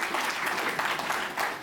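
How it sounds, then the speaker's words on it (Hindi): Applause from a crowd in a hall at a comedy show, a short dense burst of many hands clapping close and steady, with no speech over it. "एक बार पूरा सदन मुझे ताली बजा के आशीर्वाद दे"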